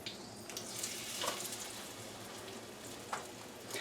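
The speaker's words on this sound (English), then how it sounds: "That's gonna taste so good cooked in the bacon grease." Egg and milk batter frying in bacon grease, a soft steady sizzle and crackle with occasional louder pops, faint and close, no talking.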